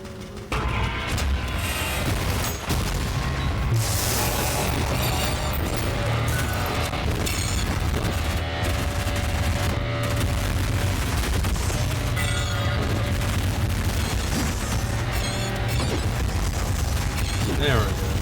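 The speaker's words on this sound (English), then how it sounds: "So I know the cannon's great for this." Cannon shots and heavy blasts from the video game ULTRAKILL, a dense, loud barrage of booms over constant game music and noise, filling the whole stretch without a pause.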